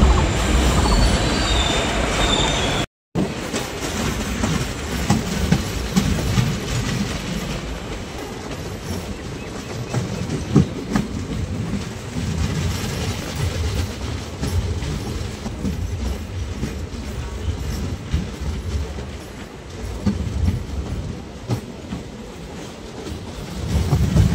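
Sifhung Express passenger train running out of Bijni station, its steady rumble and wheel noise filling the whole stretch with a brief dropout near the start and occasional squeals over the rolling din.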